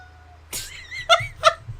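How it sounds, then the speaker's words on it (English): A virtual cat in the life-simulation game The Sims 4 gives a soft drawn-out meow, then two short, sharper meows close together. The sounds are close and clear over a quiet background. "She'll meow and then, aw, that means you're welcome in cat"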